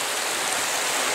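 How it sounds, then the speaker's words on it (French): A mountain stream rushes over slippery stones, giving a steady, close, full broadband wash of flowing water with no voices. "Derrière moi là-bas au fond on a le ruisseau."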